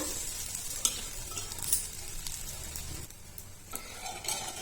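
An instant dosa cooks on a hot pan without oil, a steady soft sizzle running throughout with occasional light scraping and stirring touches, close and moderately quiet, with no talking.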